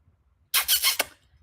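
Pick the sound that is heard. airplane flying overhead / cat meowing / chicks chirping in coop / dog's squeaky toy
dog's squeaky toy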